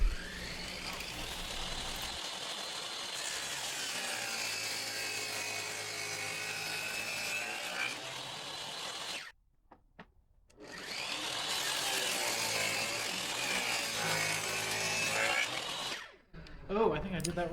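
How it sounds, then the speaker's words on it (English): Table saw fitted with a dado blade cutting grooves into wooden boards, a loud sustained whine running for about nine seconds, a brief pause, then a second long cut, close by with no talking. "So I put in the dado blade and proceeded to wildly and recklessly cut"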